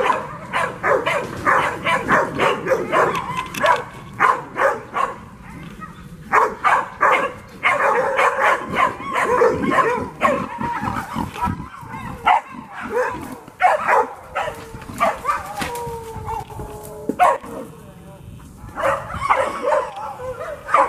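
Young hunting hound pups bark, yip and bay continuously at hogs inside a bay pen, a loud, busy chorus of overlapping barks and whimpers close by, with faint human voices now and then.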